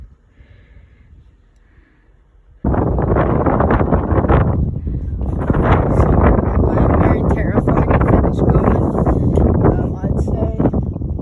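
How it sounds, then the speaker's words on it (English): Strong wind buffets a microphone high on the steep, shaky stairs of a fire tower in Mohican State Park, starting abruptly after a quiet opening and roaring loud and steady to the end. "it's shaky up here and the wind is definitely more felt than down there"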